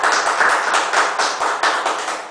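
Steady, dense applause from a church congregation, a continuous wash of many hands clapping at once for about two seconds, fading slightly at the end.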